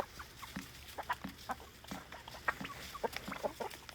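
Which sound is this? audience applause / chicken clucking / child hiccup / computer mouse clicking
chicken clucking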